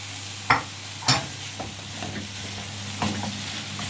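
Chicken frying with spices and vegetables in a pan, a steady low sizzle broken by a few sharp scrapes and clinks of stirring, close by with no talking.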